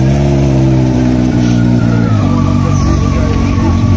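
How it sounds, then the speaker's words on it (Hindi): A powerful Kawasaki Ninja H2 motorcycle engine revs loudly and close by, its deep roar swelling and rising in pitch, with no talking. "निंजा H2, भाई साउंड सुन लो भाई H2 का"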